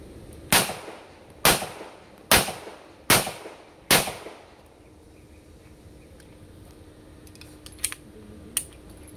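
Five sharp, loud pistol shots from a Canik SFX Rival with a 5-inch barrel crack out at roughly even intervals during live fire, followed by quiet with a couple of faint distant pops.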